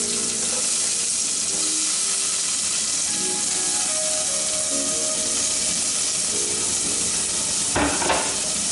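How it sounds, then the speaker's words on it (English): Onions, shallots and garlic browning in olive oil in a pan give a steady, loud sizzle and hiss throughout, with a brief clatter of stirring near the end. "We're not gonna put our tomatoes in yet till we get our onions, shallots, and garlic a little brown."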